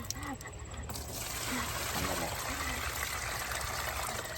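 Water runs and trickles steadily over freshly harvested potatoes as they are rinsed outdoors, a continuous close splashing wash with a voice speaking faintly over it.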